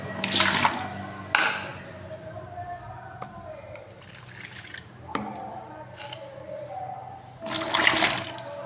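Rinse water from sour curd poured into a container, splashing and trickling close by in a few separate pours with drips between them.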